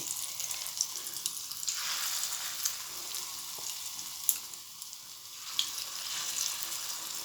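Prawn pakoras frying in hot oil in a home kitchen, a steady, close hiss of sizzling with faint crackles and a few sharp pops, with no voices.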